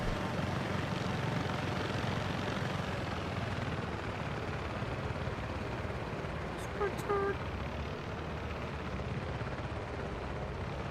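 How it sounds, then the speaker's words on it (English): Constant helicopter rotor and engine drone in the Delta Force video game, loud and unbroken throughout, with a brief voice and a couple of small clicks in the middle. "I hope I don't crash this helicopter."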